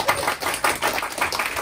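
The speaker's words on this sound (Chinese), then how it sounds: "掌声鼓励一下啊" An audience at a seminar in a Taipei hotel gives a short burst of applause, loud, close claps coming in uneven clusters.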